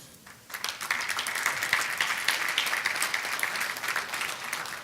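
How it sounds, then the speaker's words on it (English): A school board meeting audience breaks into applause for a student team, quiet at first, then a dense, sustained clapping from many hands that carries on to the end. "a round of applause for the team"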